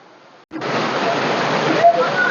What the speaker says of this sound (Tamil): கடைசியா அருவி அடைஞ்சாச்சு